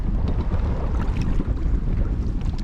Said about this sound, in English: We have quite a strong northern wind coming in today